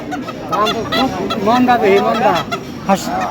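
Ducks at the Lauhati village market in Tangail, Bangladesh, honking loudly and repeatedly close by in a rapid run of nasal calls, with market voices murmuring underneath.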